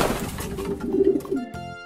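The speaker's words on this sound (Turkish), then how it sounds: "Bu bir güvercin. Güvercin." A pigeon cooing up close, a soft throaty coo swelling in the middle and then fading, followed by a brief tonal sound near the end.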